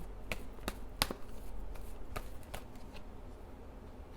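Oracle cards being shuffled by hand, a run of crisp, sharp riffling snaps and taps at an irregular pace, close and fairly quiet, with no voices.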